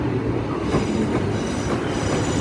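A 4-car Northern service to Leeds rolls into Salford Crescent station with a loud continuous rumble and clatter of wheels on track, close by and without voices.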